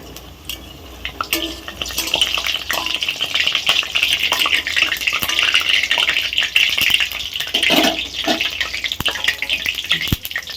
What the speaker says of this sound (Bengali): এবার গ্যাসের ফ্লেমটা একটু কমিয়ে দিয়ে ভাজা হবে।